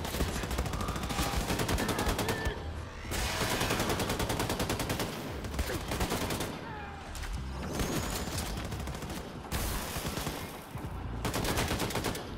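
Dense, continuous gunfire in the shooter Wolfenstein II: The New Colossus, with rapid bursts and sustained automatic fire broken by brief pauses, loud and close throughout with no talk over it.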